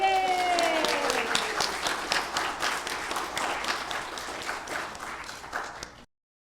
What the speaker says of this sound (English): I want one more round of applause for our poets and readers of poetry